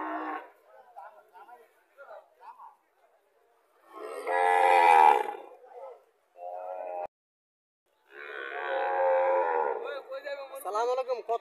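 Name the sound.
cattle and calf mooing at a livestock market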